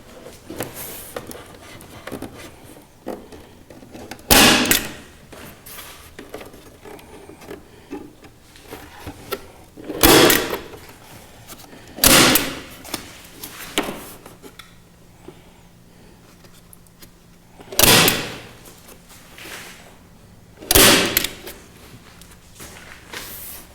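Staples driven into wood strips on a kayak deck, sharp isolated clacks spaced several seconds apart over quiet handling noise.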